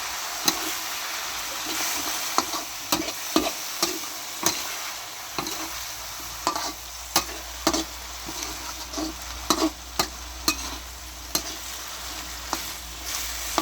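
Oyster mushrooms stir-fried in a pan for a Thai basil stir-fry, a steady moderate sizzle broken by repeated sharp spatula scrapes and taps at an irregular rhythm.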